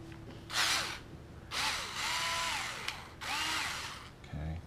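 A power driver backs out 2 mm set screws on an Apex skateboard truck during a Boca bearing swap, giving three short whirring bursts with rising and falling pitch and quiet handling noises between them.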